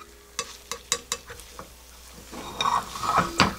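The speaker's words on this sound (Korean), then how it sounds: "모양 잡아줬으면 뒤집어 줄게요" An egg omelette being flipped and shaped in a frying pan: a series of sharp utensil taps against the pan, then soft sizzling and scraping with a few louder clicks toward the end, close and clear.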